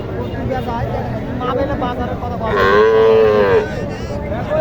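A Sahiwal cow at the Mataji cattle market in Naogaon gives one strong, drawn-out moo midway, close and loud, amid a crowd of voices and people talking nearby.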